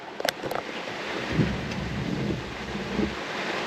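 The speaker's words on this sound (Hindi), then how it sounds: "और अब काफ़ी तेज़ हो चुकी है बारिश" Heavy rain falls steadily on a road in Uttar Pradesh, India, amid wind buffeting the microphone, with a few low rumbles and brief knocks early on.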